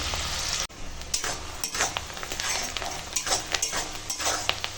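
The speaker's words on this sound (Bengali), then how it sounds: "তো চলো পেঁয়াজগুলো এখন তেলের ওপরে দিয়ে দেব তেল গরম হয়ে গেছে পেঁয়াজটা ভেজে নেব" Chopped onions fry in hot oil with a dense, close sizzle, broken by repeated scraping strokes of a spoon stirring the pan and a few light clinks, no talk.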